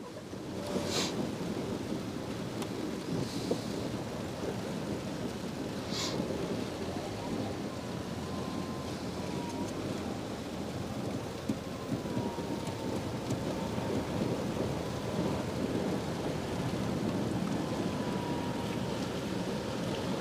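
Steady heavy rain pours down throughout, with low rumbles of distant thunder rolling beneath it, at the Westerschelde estuary in the Netherlands.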